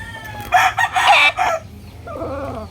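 A gamecock crows nearby in a loud, broken call lasting about a second, then lets out lower clucking sounds afterward over a faint background hum.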